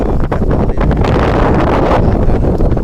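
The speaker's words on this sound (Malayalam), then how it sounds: "അങ്ങനെ നല്ല കാറ്റുണ്ട് കേട്ടോ" Strong wind in Al Khor, Qatar, buffets the microphone in a loud, continuous rumbling roar that gusts and surges throughout, with no voices.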